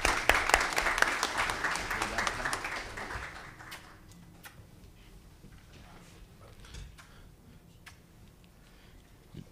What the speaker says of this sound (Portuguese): a quem eu peço uma salva de palmas